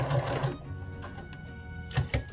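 A sewing machine stitches a dress top in short bursts, its close mechanical whirring and needle clatter starting and stopping in quick runs with brief pauses between.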